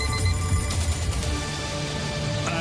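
Alarm ringing on a French morning radio show, a continuous bright electronic ring over a steady background bed, loud and close with no talking.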